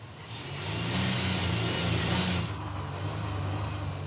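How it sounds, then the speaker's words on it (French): A car engine runs steadily at idle, a low continuous hum that rises briefly and stays level and close by, with no talking over it. "Comme vous l'entendez, la voiture fonctionne très bien."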